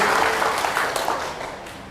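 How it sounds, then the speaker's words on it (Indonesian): Audience clapping at an Islamic health lecture in Nganjuk, a brief, dense burst of many hands that fades slightly toward the end. "Tepuk tangan untuk kita."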